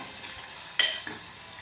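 Garlic and onion sauté in a pan with a low, steady sizzle, broken by one sharp spatula scrape partway through.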